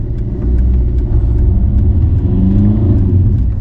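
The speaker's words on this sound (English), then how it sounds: "I think it's a very nice sounding little engine." A small 1.3 litre diesel car engine drives and accelerates, a loud close low rumble building steadily with a rising revving drone, no talk over it.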